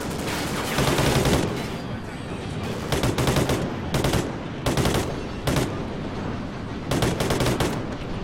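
Repeated bursts of automatic gunfire from a weapon in the video game Call of Duty: Ghosts, loud and close, coming in several separate volleys with short gaps between them.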